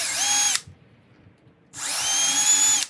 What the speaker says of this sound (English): the drill wants to suck through, so you'll like end up going through very fast